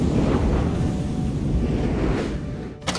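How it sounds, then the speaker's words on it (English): Wind roars steadily through a sandstorm for about three seconds, a loud, rushing broadband blast that holds constant before fading slightly and breaking off abruptly at the end. "It's a sandstorm."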